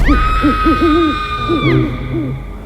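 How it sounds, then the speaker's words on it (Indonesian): An owl hoots repeatedly in short wavering calls, fairly close, over a steady high electronic tone that cuts off near the end. "sambil diikutin sama suara burung hantu"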